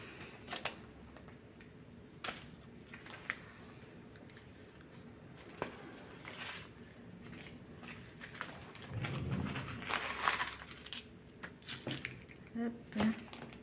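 Loose coins clink and jingle as they are dropped and gathered for counting, with several small metallic taps and rattles, strongest in a cluster near the end, against a quiet room.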